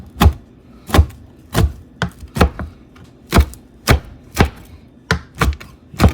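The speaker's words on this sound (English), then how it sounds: "this is actually the onion. I just want to have it, give it a rough chop" A knife roughly chops an onion on a board, about fourteen loud close chops in an uneven rhythm, with a faint low hum underneath and no talking.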